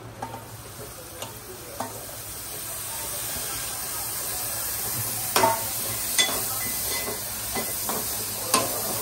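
Baby mushrooms fry in a hot pan for an Aagri Koli recipe, a continuous bright sizzle and hiss with occasional sharp clicks of stirring, loud and close throughout.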